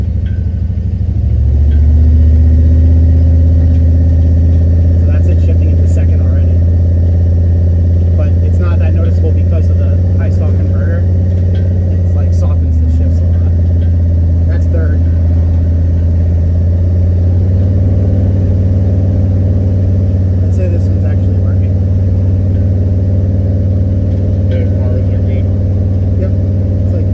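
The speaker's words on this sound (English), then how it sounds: "shifting into second" A Chevy G20 van with a swapped LS engine pulls away, a loud, close, deep engine drone that rises and dips as it shifts gears, with people talking inside.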